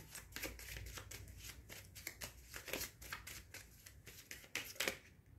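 Tarot cards riffled and slid together up close in a fast run of crisp, papery flicks and slaps, soft but continuous, with brief pauses between bursts and no voice.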